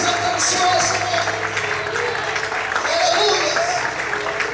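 An evening church congregation applauds during a sermon, a broad wash of clapping mixed with crowd voices and cheering rising and falling over several seconds.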